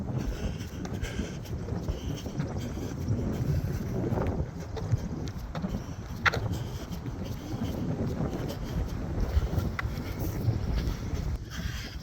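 Breezy wind buffets the microphone during an outdoor park run, a constant low rumbling roar with gusty swells and occasional faint knocks, and no clear speech.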